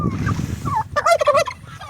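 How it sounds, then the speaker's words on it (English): Close, loud clucking and warbling calls from chickens in the morning, a short burst of bird vocalizations with no talking. "there's some chickens sitting inside"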